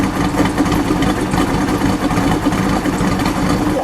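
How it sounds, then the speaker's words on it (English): A 1969 Plymouth GTX with a 426 Hemi V8 idles, a loud, steady, rough rumble heard close up and continuing evenly throughout without talk. "let me let it idle for a second."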